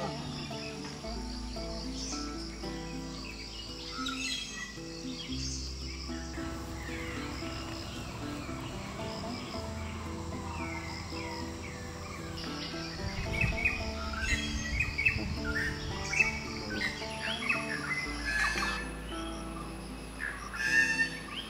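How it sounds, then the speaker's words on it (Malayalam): A treepie-type forest bird calls repeatedly in Thekkadi forest, its clear notes rising above a steady background of chirping insects, with no one talking. "ഇത് ഓലഞ്ഞാലിയുടെ ഇനത്തിൽപ്പെട്ട പക്ഷിയാ, കാട്ടുഞ്ഞാലി എന്നാ പറയുക"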